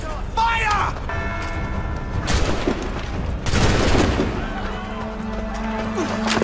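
A volley of musket gunfire in Assassin's Creed III, with repeated booming shots and crackling fire layered over battle noise and a tonal game score, a shout heard over the din.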